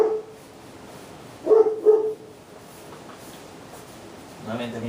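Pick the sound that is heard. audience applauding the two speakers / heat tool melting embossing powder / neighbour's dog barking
neighbour's dog barking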